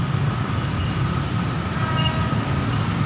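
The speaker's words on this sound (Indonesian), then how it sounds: "Keretanya mulai ngebut nih teman-teman." A JR 205 series KRL commuter electric train passes at Bukit Duri, a steady, loud rumble of wheels and motors rolling by without pause for the whole stretch, with no talking over it.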